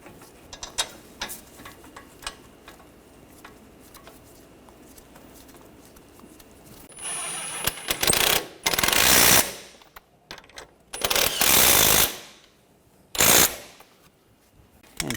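A hand ratchet tightens brake caliper bolts on a Ford Escape front wheel hub, heard as several bursts of rapid clicking in the second half, preceded by quieter scattered taps and handling noises.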